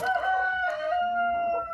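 Chickens in a muddy coop run call and crow close by, a loud drawn-out strained cry that wavers and carries on through the whole moment.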